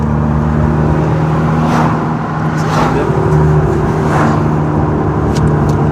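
A stage 3 tuned car drives along a road, its engine a steady close-up hum inside the cabin with a few brief swells of revving and road roar.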